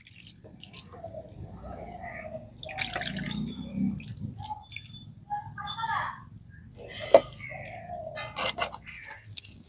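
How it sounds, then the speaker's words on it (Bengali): Fresh chhena cheese curds made from powdered milk are rinsed by hand in cold water, giving intermittent close squishes, drips and small splashes with pauses between. "ওই ছানার মধ্যে এবার দিয়ে দিচ্ছি একটু ঠান্ডা জল। ছানাটাকে এভাবে ধুয়ে নিতে হবে যাতে টক ভাবটা কেটে যায়।"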